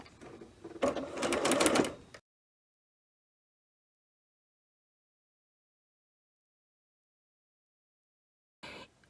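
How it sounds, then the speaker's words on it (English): A sewing machine stitches the back center seam of a knit dress, running in a dense, steady burst for about two seconds before stopping into silence, with a brief faint sound returning at the very end. "We'll put our foot down and start that seam."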